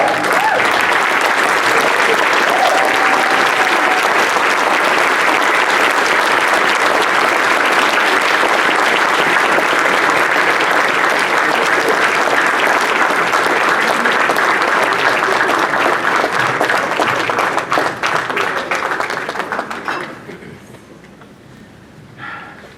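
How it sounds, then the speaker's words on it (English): A large audience at a bar association installation and awards ceremony gives a sustained, loud ovation of dense clapping for about twenty seconds, which then fades away. "Ladies and gentlemen, please rise and give an applaud to Daren Lipinsky"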